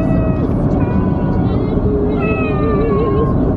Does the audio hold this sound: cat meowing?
yes